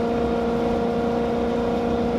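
A Ferrari-built engine in a Maserati Quattroporte sedan drones loudly and steadily throughout, holding a constant, even pitch rather than climbing.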